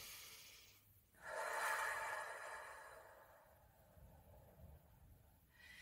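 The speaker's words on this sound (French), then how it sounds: "je prends le temps de faire quelques respirations" A person takes a few slow, deliberate breaths close to the microphone, a long soft airy inhale swelling and then easing into a quieter breath in an otherwise still room.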